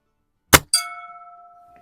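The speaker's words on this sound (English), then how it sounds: "But let's hit the gong first." An air rifle pellet from a BSA Super Meteor strikes a hanging metal gong at the range: a sharp crack, then a bright clang whose ringing tone sustains and slowly decays, loud and close.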